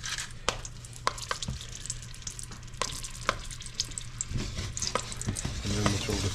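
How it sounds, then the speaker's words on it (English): Jalapenos roasting in a hot pan for a crab dip, giving a steady low sizzle and crackle with sharp clicks and taps of stirring scattered throughout, close and moderately quiet, with no talking. "I'm going to throw our jalapenos in there now. Let that roast for a little bit."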